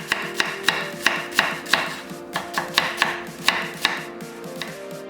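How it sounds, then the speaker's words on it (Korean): A knife chops through an onion into coarse strips on a cutting board, about a dozen crisp, evenly spaced knocks in a steady rhythm, close and clear with no talking. "양파 한 개는 살짝 굵게 채 썰고"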